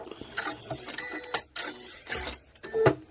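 A sewing machine stitches back over a seam on a tuffet cover, reverses for a backstitch and runs forward again, giving short bursts of rapid mechanical clatter with brief pauses between them, close and fairly loud.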